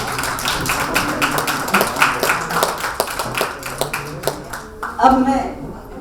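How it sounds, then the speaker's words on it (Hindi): At a women poets' award ceremony honouring women on International Women's Day, scattered, uneven audience clapping rings out in distinct claps, mixed with voices in the room. "तालियों से प्रोत्साहन बढ़ाएं।"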